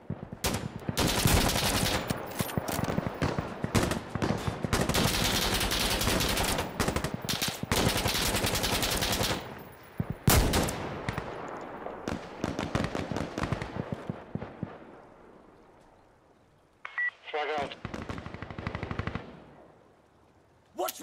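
Sustained rifle fire from the tactical shooter Insurgency Sandstorm, with dense rapid bursts and volleys that ring loud and close for about ten seconds, then thin into sparser shots and echoing distant fire, with a final short burst after a lull.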